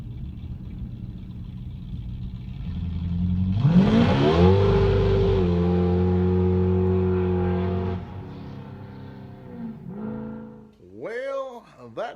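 A supercharged 1988 Ford Mustang GT launches hard on a timed run. The engine winds up and climbs sharply through the gear, holds a strong roaring pull, then drops off and fades into a softer passing whine near the end.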